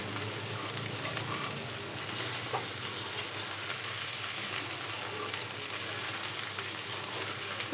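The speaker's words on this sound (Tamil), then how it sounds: "இந்த மாதிரி நல்லா ரெட்டாக வதங்கணும்." Brinjal sautéing in hot oil in a pan gives a steady, even sizzle and frying hiss that lasts the whole stretch, with no voices over it.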